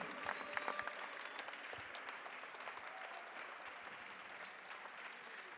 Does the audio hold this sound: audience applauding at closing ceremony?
yes